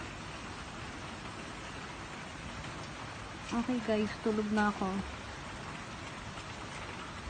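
Steady rain hisses throughout in Israel, heard from a fifth floor, with a person speaking briefly in the middle over the constant downpour.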